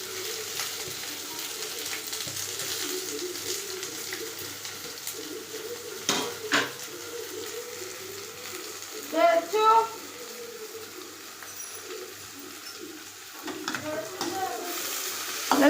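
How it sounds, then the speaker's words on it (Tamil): Chopped onions sizzle steadily in hot oil in a pan while stirred, with occasional clinks of a utensil against the pan. "எண்ணெய் தெரிக்குது"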